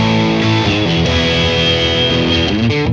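A distortion effect applied to a music signal produces a loud, saturated, gritty tone with sustained harmonic layers that shift pitch throughout.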